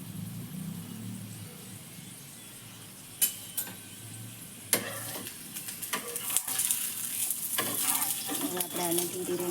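Food sizzling and frying on a gas stove, a soft steady crackle broken by a few sharp clatters of stirring and pan contact, growing busier toward the end.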